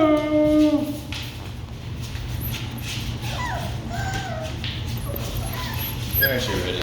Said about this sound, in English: Here we are. The Kiwi puppies.